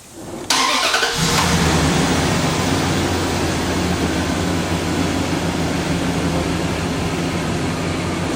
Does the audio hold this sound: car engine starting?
yes